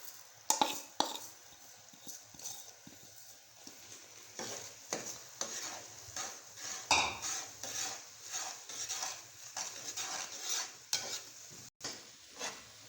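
A spoon stirs sesame seeds into melted jaggery in a pan for til laddoos, making continuous rhythmic scraping and clinking strokes with a faint sizzle underneath, close by and with no voices.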